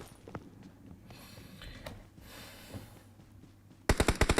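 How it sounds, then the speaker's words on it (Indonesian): Machine gun fire in the video game PUBG Mobile, faint distant shots early on, then a loud rapid burst of automatic fire close by at the end. "Banyak suara tembakan depan"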